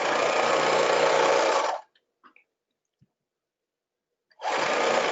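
Close, loud buzz of a sewing machine stitching tutu net, running steadily, then stopping for a few seconds of near silence with faint clicks before starting up again.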